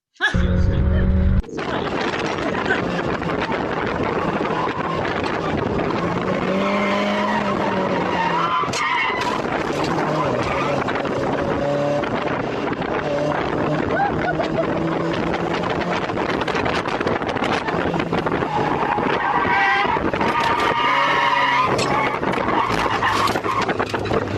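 A small Mazda MX-5 of about 30 horsepower lapping a racetrack on a trackday, its engine droning loud and steady for over twenty seconds, with tyre skids and passing cars mixed in after a sudden start.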